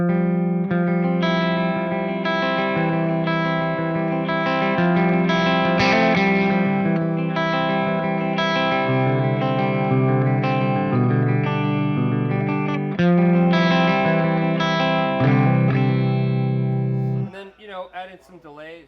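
Clean electric guitar tone through a Fractal Axe-Fx III, played as sustained, ringing chords and arpeggiated notes with a shimmering effect, loud and alone, ending in a brief wavering tail.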